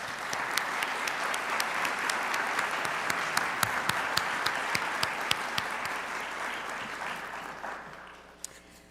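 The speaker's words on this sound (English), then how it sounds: "So let's give them a round of applause." Audience applause at an honors convocation: a full, dense wash of clapping from a large crowd, steady and close for most of the stretch, then thinning and fading out near the end.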